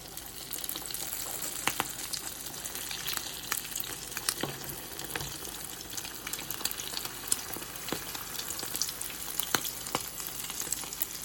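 Bacon and shrimp egg foo young patty frying in a pan, a steady close sizzle and crackle of hot grease with scattered sharp pops running throughout, no voices.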